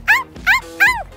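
Three sharp, high-pitched dog barks or yips at an animal protection center, in an even rhythm, close and loud, with short pauses between them.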